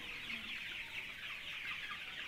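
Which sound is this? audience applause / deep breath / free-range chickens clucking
free-range chickens clucking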